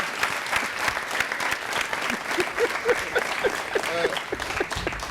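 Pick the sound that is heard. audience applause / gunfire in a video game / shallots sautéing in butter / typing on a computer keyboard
audience applause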